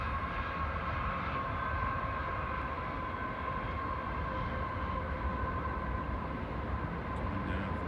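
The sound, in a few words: passing train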